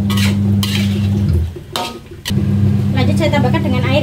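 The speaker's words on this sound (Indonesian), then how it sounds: "Kita aduk-aduk dulu ya." Chicken being stirred in a pan while cooking Indonesian rica-rica ayam, with steady sizzling and a constant low hum from the stove throughout, a short quieter break in the middle, then faint scraping and stirring sounds.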